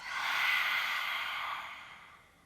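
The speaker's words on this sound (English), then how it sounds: "Exhale, lion's breath." Forceful open-mouthed lion's breath exhale during a slow yoga flow, one long breathy rush of air that swells quickly, holds, then fades out over a couple of seconds, close and alone.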